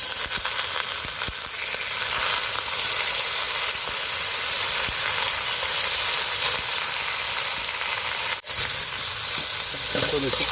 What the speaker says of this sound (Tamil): இதில் வந்து இப்போ நம்ம சிக்கனை சேர்க்குறோம்